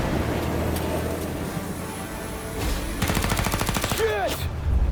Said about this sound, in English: Shoot out their gun when there's a break in the fire!